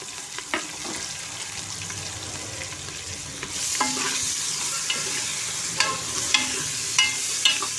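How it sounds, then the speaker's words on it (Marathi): Sliced onion hits a hot pan and the frying swells into a louder, steady sizzle, broken by occasional spoon scrapes and clinks against the pan; close and without talk. "तर त्यामध्ये हे मी उभा चिरलेला कांदा घालते."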